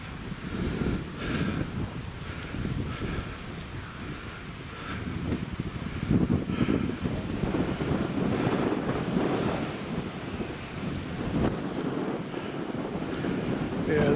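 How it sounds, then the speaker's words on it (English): Strong wind buffets the microphone in continuous roaring gusts at exposed Housesteads Roman Fort on Hadrian's Wall, with a steady rushing noise throughout and no pauses. "this isn't a sheltered spot, very windy here"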